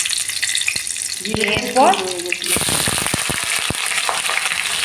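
Cumin seeds and green chilli sizzle and crackle in about two spoonfuls of hot mustard oil, a steady close hiss with sharp pops that grows denser partway through, while a voice speaks briefly over it.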